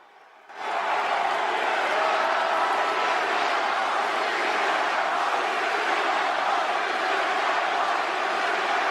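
A large Chicago wrestling crowd roars for CM Punk, a sudden swell of cheering that holds as a loud, dense, sustained wall of voices.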